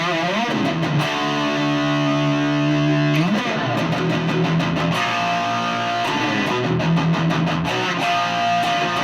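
A Marshall G30R CD guitar combo amp plays a distorted electric guitar with reverb, sustained chords and held notes ringing loudly with a washy tail, changing pitch every few seconds.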